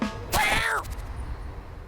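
A cat in the video game YIIK gives a single short, clear meow-like vocalization up close, then quiet; no purr is evident.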